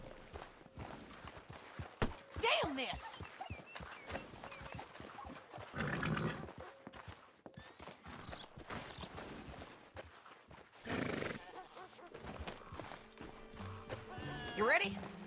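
Horse hooves clip-clop during riding in Red Dead Redemption 2, with irregular bursts of hoofbeats, a whinny and game sounds, under intermittent talk.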